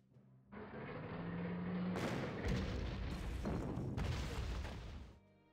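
Artillery fire from the World War II strategy game Panzer Corps, Battle of Dunkirk, rolls out as a continuous run of deep booms and thuds for several seconds, loud and dense before fading out.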